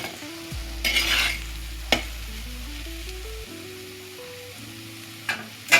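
Softened cabbage stirred in a pan: a few short scraping strokes and a light sizzle under steady background music.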